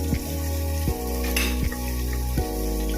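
Sliced onion and curry leaves sauté in hot oil in a pan for a chicken curry, a steady close sizzle with a few scraping stirs of a spoon against the metal.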